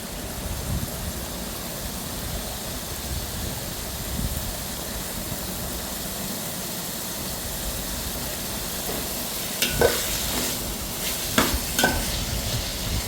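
Chicken cooking in masala for biryani, a constant sizzle in the pot with a few louder scrapes and clanks of stirring toward the end.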